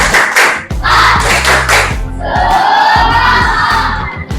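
A school class performs a rhythmic spirit clap together in a classroom, loud patterned bursts of hand claps, with some children's voices near the end.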